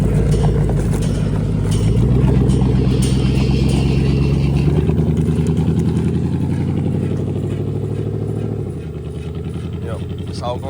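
A 1970 Ford truck with its cab mounted on a Chevy frame drives down the road, its engine droning loud and steady with a shift around the middle and a slight drop near the end.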